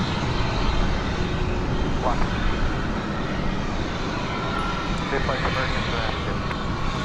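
A plane takes off at DFW Airport on a flight bound for Fresno, its engines a loud, steady, broadband roar that holds through the whole stretch without letting up.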